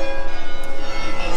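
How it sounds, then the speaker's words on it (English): Church tower bells ringing in the city center of Amersfoort, a steady ringing tone heard briefly and clearly. "And you hear the bells? They have this tower here."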